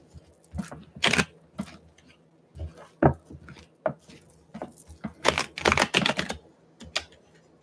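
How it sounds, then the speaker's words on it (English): Tarot cards being shuffled by hand during a psychic tarot reading: irregular bursts of crisp, papery clicks and riffles, fairly close and fairly loud, separated by short pauses, with no talking. "let's do one more shuffle."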